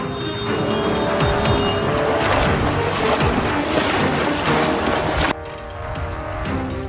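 A car caught in flood conditions in Bali, its engine roaring with squealing, skidding tyres for several seconds before the noise drops away sharply into a quieter background.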